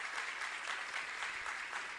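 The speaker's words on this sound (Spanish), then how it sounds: "Fuerte aplauso entonces para el Señor" Steady, even applause from a congregation at a chapel Mass in Areguá, a continuous wash of clapping heard somewhat distantly, with no talking.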